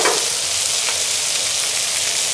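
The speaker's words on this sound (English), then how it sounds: "While the beef is browning up in the pan with that flour and kind of caramelizing" Chunks of Charolais chuck roast sizzle and fry steadily in a hot pan with flour, a continuous close, fairly loud crackling hiss with no talking.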